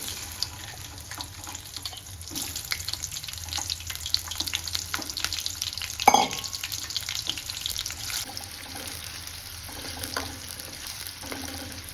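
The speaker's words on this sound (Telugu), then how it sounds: "ఫస్ట్ మనం కట్ చేసుకున్న పెద్ద ఉల్లిగడ్డ ఉంది కదా, దాన్ని బ్రౌన్ కలర్ వచ్చేంత వరకు వేయించుకోవాలి" A big cut onion frying in oil for mushroom biryani makes a steady, moderately loud sizzle, broken by a few clinks and a sharper knock midway, with no voices.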